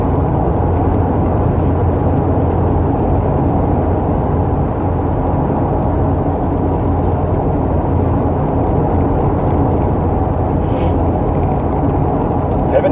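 Car interior noise while driving on a warm day, a constant low road rumble and engine drone with tire roar, steady and close throughout, with a faint brief rattle near the end.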